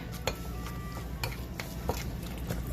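A thick Korean-style sauce for spicy chicken feet is mixed in a bowl, with light clinks and scrapes of a utensil at an irregular rhythm, close and moderately quiet.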